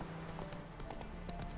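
Horse hooves clip-clopping at a walk in the video game The Witcher 3, a steady rhythmic series of close hoof knocks at moderate level over a faint background.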